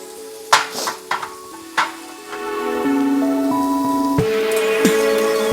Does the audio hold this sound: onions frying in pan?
yes